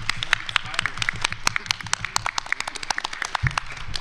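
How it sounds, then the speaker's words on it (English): Audience at a Japan Foundation 50th anniversary plenary claps for panelists: a modest crowd with distinct individual claps, loose and uneven, continuing for a few seconds. "please join me, give a big applause to today's panelists."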